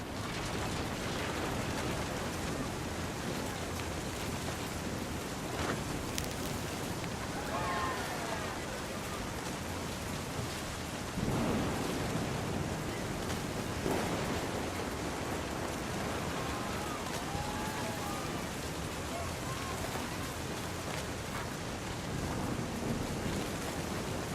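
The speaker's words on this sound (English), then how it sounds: "The thunder sounded much too close and full of angry power" Heavy rain pours steadily in a thunderstorm in the video game What Remains of Edith Finch, a dense unbroken hiss with low rumbles of thunder swelling at intervals beneath it.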